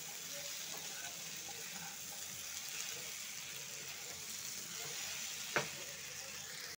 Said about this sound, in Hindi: इसी टाइम पे ये सारे सब्जी इसमें डाल देंगे। अब इसको चलाना है।